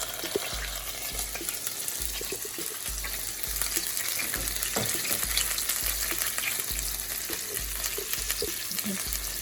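Chicken fries in a pan over medium heat, a dense, steady sizzle with crackling pops and spattering oil throughout, fairly close and without talk.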